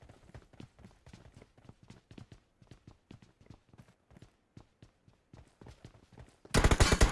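Rapid, evenly spaced shots of fast automatic gunfire in a battle royale video game, a steady rattling string at moderate distance that ends in a sudden loud burst of noise.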